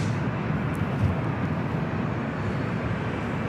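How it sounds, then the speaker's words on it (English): A Delta Airlines Boeing 737-800 bound for Las Vegas at LAX gives off a steady, broadband jet roar that stays continuous and fairly loud throughout, with no voices over it. "It's Delta flight heading to Vegas. Delta Airlines flight 21-20, a 737-800."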